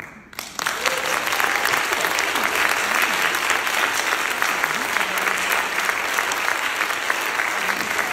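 A conference audience in Geneva breaking into sustained applause, a dense, even wash of clapping from a crowd that swells quickly and holds steady throughout.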